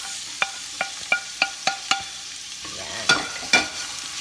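Garlic and onion sauté in a pan as a spoon stirs them, giving a series of sharp scraping clicks in an irregular rhythm over a soft sizzle, close and fairly quiet, with a brief spoken word.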